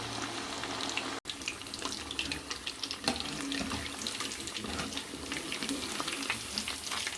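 Chicken kebab pieces frying in a pan, a steady crackling sizzle with dense spitting across the whole stretch, no voices.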